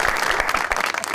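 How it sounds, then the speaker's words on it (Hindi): Studio audience applause on a Pakistani comedy talk show, a dense, steady wash of many hands clapping at once, loud and continuous for a brief moment with no voices over it. "तालियां बड़ी साहब के लिए जी।"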